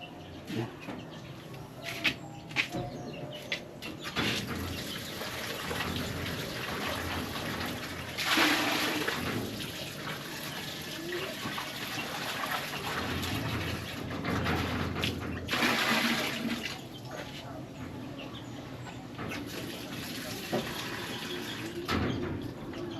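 Tap water running over tuna fish being washed, a steady splashing flow with louder gushes and handling clatter at intervals, close, with no talk.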